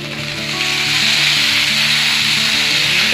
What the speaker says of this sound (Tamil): இதில் கடைசியாக வந்து கருவேப்பிலை, கொத்தமல்லி, இதெல்லாமே ஒரு நிமிஷம் கலந்துக்கோங்க.